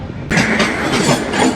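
A train rolls through Khammam railway station in a sudden loud burst, a broad rushing roar with rhythmic rattling pulses close by, with no voices.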